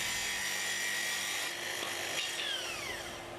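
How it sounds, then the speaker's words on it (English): A Makita SP6000 plunge saw running on its guide rail while making a full-depth cut through wood. It gives a loud, steady, high-pitched whine that holds throughout, with no talking. "Now release the stop and make the full depth cut."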